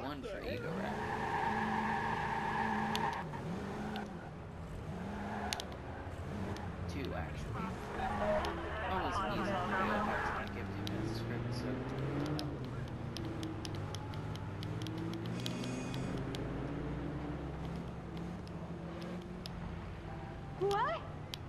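A car in the Watch Dogs video game driving with revving engine and brief tire squeals and skids, with someone talking over the driving sounds the whole time.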